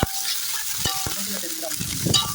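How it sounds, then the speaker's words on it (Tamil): Ginger garlic paste hits cooked onions in a pan for mutton pulao, giving a close sizzle and crackle with a couple of quick utensil knocks over a short stretch, without speech. "25 கிராம் இஞ்சி பூண்டு பேஸ்ட்டை சேர்த்துக்கிறோம்"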